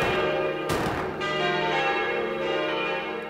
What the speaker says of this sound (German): Kirchenglocken läuten